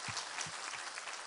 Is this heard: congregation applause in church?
yes